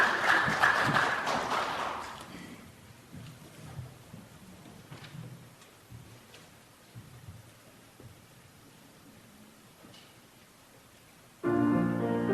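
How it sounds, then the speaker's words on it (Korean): A congregation applauding to welcome a church choir at a Christmas Sunday worship service: a dense burst of clapping that lasts a couple of seconds, then dies away into a quiet hall before music begins. "박수로 한번 환영해 주시기 바랍니다"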